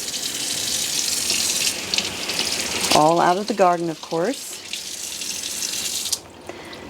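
A newly installed kitchen sink faucet runs in a steady, close rush of water, with a short stretch of talk over it before the flow cuts off near the end.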